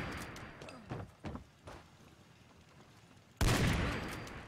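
A modded L96A1 sniper rifle fires in Fallout 4: a few faint distant shots early on, then one loud, close report with a long decaying tail.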